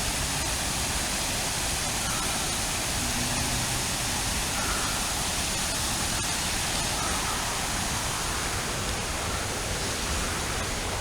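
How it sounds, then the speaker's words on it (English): A steady, broadband rush of falling water roars continuously without pause, like a waterfall heard from nearby, with no voices. "There's our waterfalls through there."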